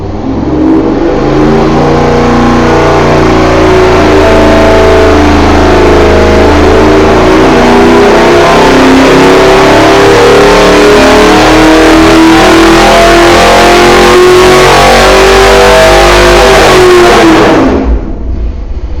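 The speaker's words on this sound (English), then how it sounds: "We're going to run the engine with the carb spacer flipped upside down" A small-block Chevy 383 stroker V8 on a dyno roars steadily at high load for about seventeen seconds, loud and constant with a rising drone, then cuts off abruptly near the end.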